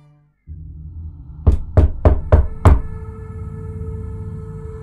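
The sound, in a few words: knocking on bedroom door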